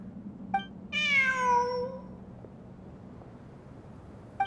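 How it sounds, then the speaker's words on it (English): A cat in the Genshin Impact video game gives one clear, drawn-out meow lasting about a second, with soft game ambience and faint chimes around it. "Look! A cat!"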